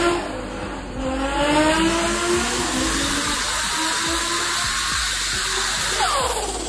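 Toyota 2JZ turbocharged inline-6 in a drift car at a Formula Drift pit area, revving up sharply and then holding a loud, raspy, crackling idle-to-mid rev that sounds close by.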